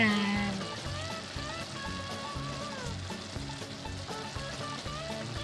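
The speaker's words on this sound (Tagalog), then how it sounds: "Pinatutuyuan na ng konti yung sabaw." Pancit bihon rice noodles with vegetables cooking in a pan as the broth reduces, a steady close sizzle and bubbling with faint stirring and background music underneath.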